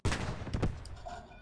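A tank cannon fires during a Girls und Panzer tank battle video game: a loud, sharp blast, a second heavy boom moments later, then a fading rumble, with no talk over it.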